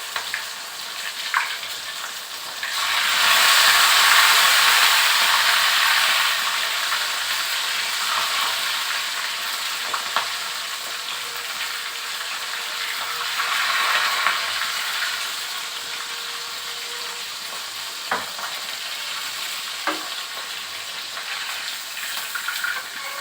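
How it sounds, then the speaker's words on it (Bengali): Fish heads frying in a pan of hot oil, a continuous close sizzle that swells louder in bursts early on and again midway, with occasional clinks and stirring over the steady crackle. "মাছের মাথাগুলো আর একবার করে ভেজে নিচ্ছি"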